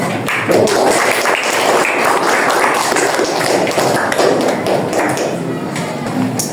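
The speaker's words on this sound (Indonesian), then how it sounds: "Berikan lagi tepuk tangan ya" A class of students claps for a group that has just presented its project, a dense, steady stream of overlapping claps that holds fairly loud and close for several seconds, with faint voices underneath.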